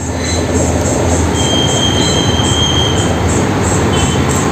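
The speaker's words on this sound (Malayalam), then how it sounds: "അപ്പോൾ ട്രെയിൻ വന്നു ഇനി അടുത്ത് തന്നെ ഒരു ട്രെയിനും കൂടി വരുന്നുണ്ടെന്നാണ്" A train rolls past close by near Uthralikavu temple in Thrissur, a steady loud rumble of wheels on rails with high metallic squealing running throughout.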